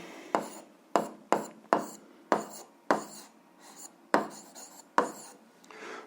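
Pen writing on paper during a physics exercise, a series of distinct scratchy strokes in uneven bursts, close and quiet with no voices.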